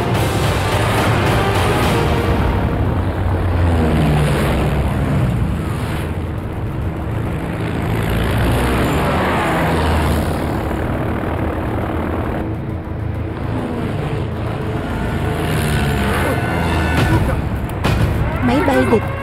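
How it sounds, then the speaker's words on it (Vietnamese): Enemy propeller aircraft drone overhead in a wartime battle scene, a dense sustained engine roar mixed with gunfire and explosions, loud and continuous, with voices shouting over it. "Máy bay địch."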